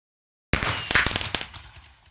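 Minecraft firework sounds: after a half-second of silence, a sharp burst followed by a rapid crackling of small pops that fades out over about a second and a half.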